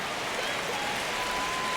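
Continuous crowd murmur and roar in a baseball video game, Braves versus Phillies in the ninth inning, a dense steady wash of noise filling the brief moment.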